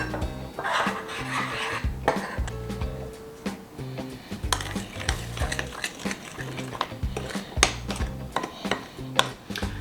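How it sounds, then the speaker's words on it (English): Flour, baking powder and salt stirred together in a bowl with a utensil, giving repeated scraping clinks and taps against the bowl in a steady rhythm, close and clear with no talking. "I have some baking powder and a teaspoon of salt that we're going to mix together before adding that to our creamed mixture"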